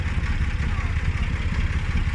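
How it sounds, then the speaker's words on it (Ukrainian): An old Fiat tractor engine, just started, idles with a steady low rumble and a faint clatter, loud and close, with no one talking over it. "Старий трактор. Фіатик. О, запустили."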